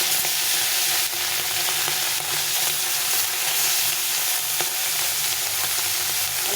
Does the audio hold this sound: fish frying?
yes